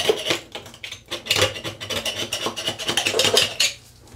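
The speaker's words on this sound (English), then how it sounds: "still use your utility knife to scrape off the excess on the wall" A utility knife scrapes old caulk off a shower wall in a series of close, rough rasping strokes with brief pauses between them.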